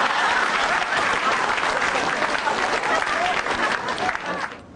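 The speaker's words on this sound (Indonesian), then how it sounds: "Tepuk tangan buat saya." Audience applause at an Indonesian stand-up comedy show, a loud and dense wash of clapping that holds steady and then fades toward the end.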